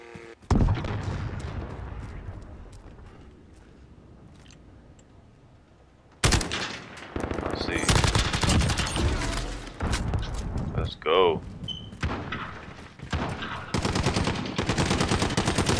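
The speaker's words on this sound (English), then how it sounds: "Sentry gun. Enemy interruption." Sentry gun hammering out sustained automatic fire in a shooter game, long, dense bursts, loud and near, following a single sharp shot and a quieter lull, with a voice speaking partway through.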